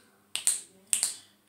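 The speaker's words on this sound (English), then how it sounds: "I can only snap." Two pairs of crisp finger snaps, close and fairly quiet, with a short pause between the pairs.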